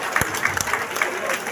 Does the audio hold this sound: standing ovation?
yes